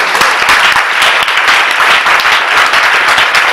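A church congregation applauding, dense continuous clapping from many hands filling the room at close range, steady and loud throughout with no pauses.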